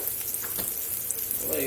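Steak laid into a pan of olive oil and butter sizzles steadily at close range, a soft continuous frying hiss with faint crackles throughout.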